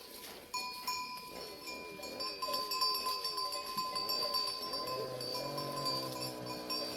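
A ewe in labour during a flock migration bleats amid the flock, with several drawn-out bleats and livestock calls over a steady outdoor background, moderately distant.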